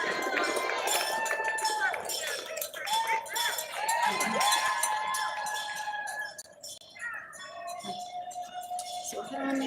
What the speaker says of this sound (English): This is the larger population of runners coming in now.